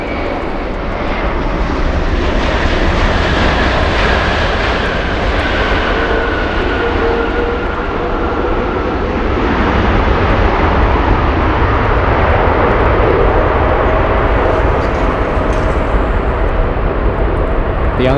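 An airliner takes off from runway 24 left at LAX, with a loud sustained engine roar that swells and stays steady for the whole stretch. Faint radio chatter may sit underneath.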